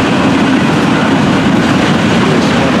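A loud, steady rumble of a Florida East Coast Railway freight train carrying new automobiles rolling past close by, with continuous rail noise and faint clatter throughout.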